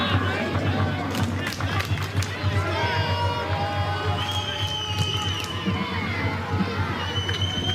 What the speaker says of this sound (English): Crowd's starting to come to life here.